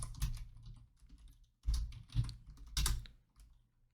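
Three short, close bursts of typing on a computer keyboard as code is entered, each a quick cluster of keystrokes separated by brief quiet gaps, heard alone.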